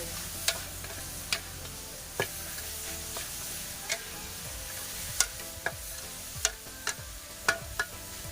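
Puffball mushrooms dry stir-fried with holy basil crackle steadily in a hot pan, while a spatula knocks against the pan in sharp strikes about once a second. No one speaks.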